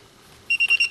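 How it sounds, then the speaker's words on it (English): Four quick, high electronic beeps from an Igloohome smart padlock sound in a rapid series, close by and fairly faint, after a moment of quiet. "I don't know what makes it beeping now."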